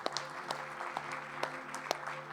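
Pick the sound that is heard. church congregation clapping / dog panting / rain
church congregation clapping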